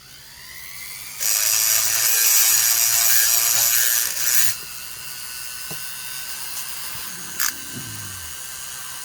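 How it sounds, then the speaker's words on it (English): A Stihl MS 660 chainsaw part being ground with a high-pitched rotary grinder in a loud, steady burst of about three seconds, followed by quieter workshop handling noises and one brief final touch of the tool. "So we'll start doing a little bit of grinding here."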